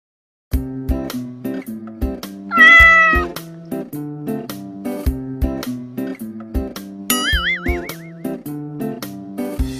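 A cat meows loudly several times in clear, drawn-out calls over a repeating, plucky musical backing.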